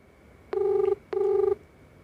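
Two identical ringback tones from an unanswered phone call, each about 0.4 seconds long and separated by a short pause. Both are clear and steady, with no talk over them.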